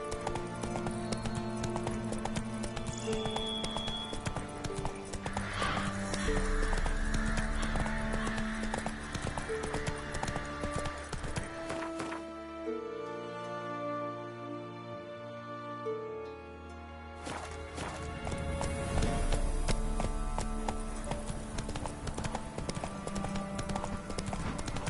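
Horse hooves clip-clop at a gallop in The Witcher 3, with occasional whinnies over game music and ambient sound; the steady beat drops out briefly mid-clip before resuming.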